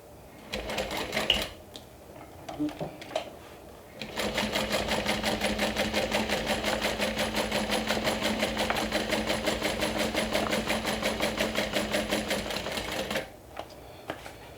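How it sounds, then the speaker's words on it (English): A sewing machine topstitches around a garment seam in one long, even, rapidly pulsing run lasting about nine seconds, preceded and followed by light handling noises. "I'm going to go ahead and top stitch all around the part that we've just sewn."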